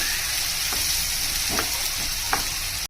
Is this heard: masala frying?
yes